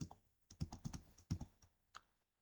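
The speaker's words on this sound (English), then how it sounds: "click on cell A9 and we will type professional" Keys clatter on a computer keyboard while a word is typed into a spreadsheet cell, a quick burst of close, crisp taps followed by a few isolated strokes and silence.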